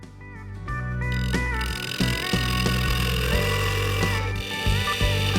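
A woodturning lathe hums steadily while a large negative-rake carbide tool cuts the top of a Sapele rim on a honey pot, with a droning motor tone and intermittent scraping contacts throughout.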